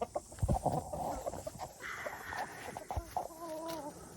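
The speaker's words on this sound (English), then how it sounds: "So that's the chicken area." Chickens cluck in a backyard pasture coop beside a young food forest, a run of close, moderately loud clucks and squawks with a short rising call near the end, no talk.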